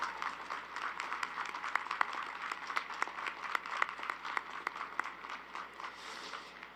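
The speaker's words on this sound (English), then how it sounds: "Graduates, please join me now in giving a hearty round of applause to thank those family members" Audience applause at a University of Toledo spring commencement ceremony, a steady wash of many hands clapping with sharper individual claps popping out, moderately loud and sustained throughout.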